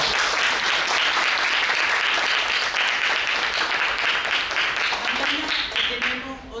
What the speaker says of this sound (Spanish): Aplauso otra vez para ellos.